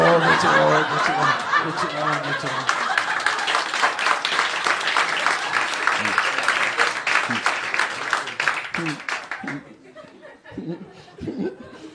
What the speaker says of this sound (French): Vous avez bien applaudi quand même